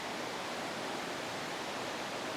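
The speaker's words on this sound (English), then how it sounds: "Now again, apologies about the noise, the waterfall is literally just there." A river waterfall in the Yorkshire Dales sends up a steady, dense roar of rushing water, loud and close throughout, with no breaks or voices.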